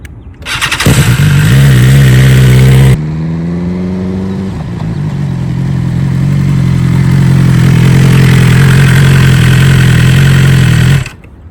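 A motorcycle engine runs loud and close, dropping in pitch as the bike slows, then settles into a steady idle before cutting off abruptly.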